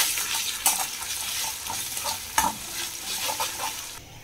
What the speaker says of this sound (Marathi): आता आपण अद्रक लसणाची पेस्ट टाकणार आहोत। हे चांगलं तर मिक्स करून घ्यायचं आहे।